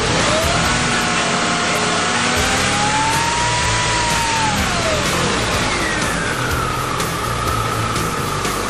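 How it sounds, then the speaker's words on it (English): A car engine revs up and settles back, its pitch rising and falling smoothly over several seconds, loud and close with no talking. "if I come over here and rev the car up, you'll see the RPMs go higher"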